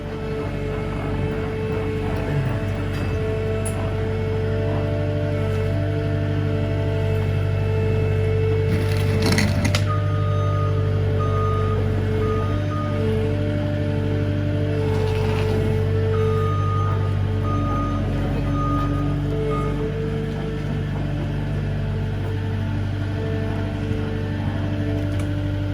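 Skid steer loading a roughly 700-pound load onto a trailer during San Joaquin Valley flooding: a steady engine drone with intermittent reversing beeps and occasional clunks, continuous and close throughout.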